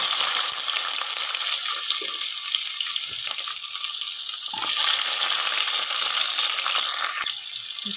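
Onion frying in a pan of hot oil with garlic, a steady broad hiss and sizzle running throughout at moderate loudness, with a few faint stirring scrapes and no voices.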